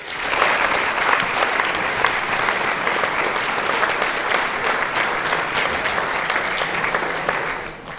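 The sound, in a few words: audience applause at a show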